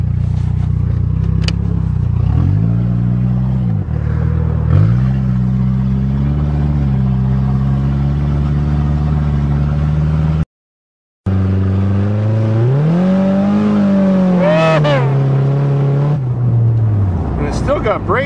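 A 2008 Nissan Stanza idles and drives on a farm, its engine humming steadily with rising and falling revs and a brief cut in the middle before it climbs again, close and loud.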